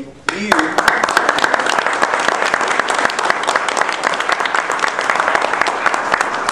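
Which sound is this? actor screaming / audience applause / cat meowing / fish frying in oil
audience applause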